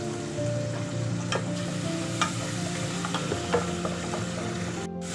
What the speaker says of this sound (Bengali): একটু নুন আর হলুদ দিয়ে আমি চিংড়ি মাছটাকে ভেজে নেব।